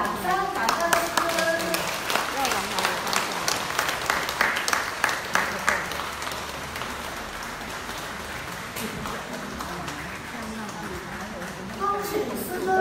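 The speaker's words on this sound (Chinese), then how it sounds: "那我们以热烈的掌声感恩师尊" Crowd clapping warmly at a temple consecration ceremony at Lianhu Leizang Temple, dense scattered claps throughout, mixed with a speaking voice over the applause.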